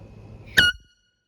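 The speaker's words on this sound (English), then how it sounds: "So yeah, I just got my air horn." A single short blast from a handheld air horn, loud and close, with a bright tonal blare that cuts off quickly and leaves silence behind.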